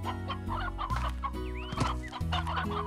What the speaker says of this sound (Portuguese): Que legal, tá cheio de galinha aqui.